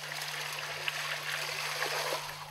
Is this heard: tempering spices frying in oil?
no